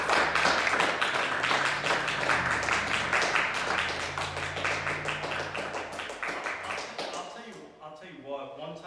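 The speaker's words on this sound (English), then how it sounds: "give him a round of applause" An audience claps steadily for a poet at an open mic reading, dense applause filling the room before tapering off near the end.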